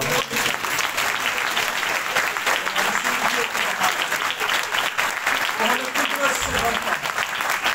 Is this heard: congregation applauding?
yes